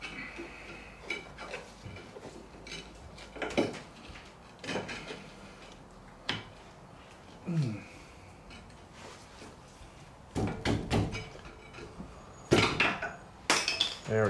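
Metal clinks, taps and scrapes sound up close as a worn rear brake pad is worked free from the caliper of a 2010 Kia Sportage 2.0 petrol, scattered irregular knocks between quieter fiddling, with sharper clanks near the end.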